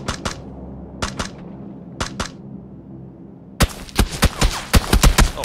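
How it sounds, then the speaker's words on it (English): Enemy gunfire in a video game: a few isolated double-shot bursts spaced about a second apart, then a quicker volley of sharp cracks and snaps, moderately loud without any talk over it. "He's shooting at me."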